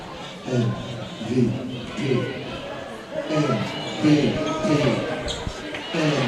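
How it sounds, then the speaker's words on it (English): Spectators at a basketball grand final, Toowoomba Mountaineers against Southern Districts, chant and cheer in rhythmic rising surges, with ball bounces and chatter mixed in and a commentator's voice intermittently over the crowd. "I am hearing the crowd"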